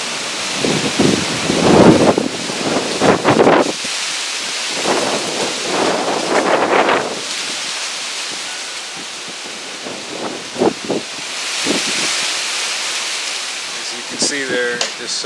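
Hurricane wind gusts sweep through a food forest in Hurricane Ian, roaring in surges that rise and fall with rain-like rushing, loud and close to the microphone with rustling in between.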